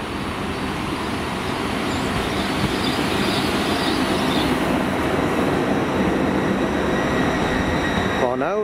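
Class 37 diesel locomotives at Severn Tunnel Junction, rumbling loudly and continuously through the whole stretch with dense low-frequency engine drone and rail noise, near and steady, with no talk over it.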